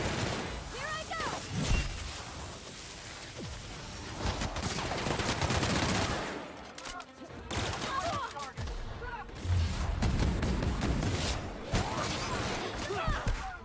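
Plasma bolt gunfire in the sci-fi shooter The Outer Worlds, rapid, dense volleys of shots crackling almost continuously with brief lulls, mixed with shouting voices.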